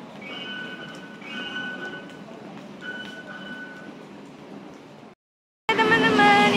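A busy train station where passengers board a train, with a steady rumbling hum of rail cars and faint high squealing tones, then a brief gap before a louder burst of noise.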